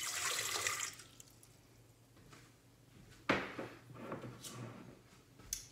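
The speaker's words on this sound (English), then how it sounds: "I'm going to add my water." Water poured into a stand mixer bowl for French bread dough: a faint splashing pour at the start, followed by quiet handling knocks and a sharper clunk, all soft and close.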